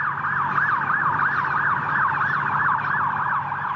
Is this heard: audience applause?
no